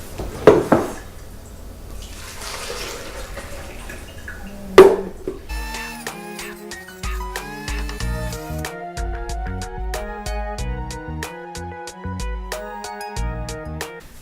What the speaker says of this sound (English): Let me wash it out real quick.